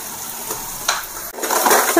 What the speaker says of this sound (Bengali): পেঁয়াজগুলো ভাজা ভাজা হচ্ছে।